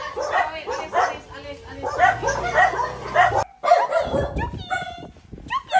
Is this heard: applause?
no